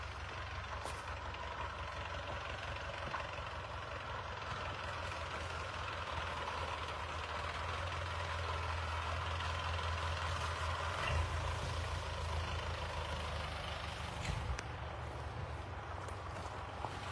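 A tractor engine runs with a continuous low rumble and drone, steady and fairly close, with occasional faint clanks and hisses over the top throughout.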